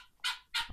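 Two loud, harsh calls in quick succession from a white rooster, close by, like a crow cut short, with a low thump at the end.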